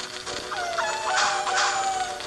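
A white bird clucks in the video game Zelda Ocarina of Time 3D, giving a series of rising and falling squawking calls in quick succession over a constant, busy game background.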